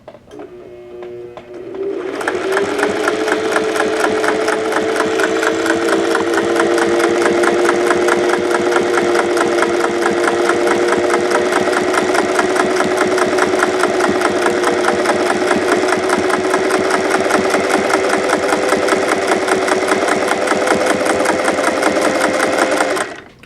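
A sewing machine starts up and runs at a slow steady pace, its needle mechanism chattering in a fast even rhythm with a whirring motor tone, loud and close, then stops.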